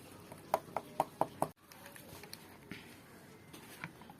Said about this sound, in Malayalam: കുറച്ച് മൈദപ്പൊടി ഇട്ടിട്ട് നന്നായിട്ടൊന്ന് ഇളക്കിയെടുക്കാം